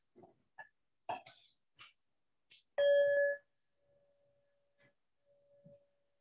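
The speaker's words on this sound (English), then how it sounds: "Now I will invite the bell." A single bell rung to open a sacred service gives one clear strike that rings on in a long, sustained tone and slowly fades, after a few soft rustles and breaths in a quiet room.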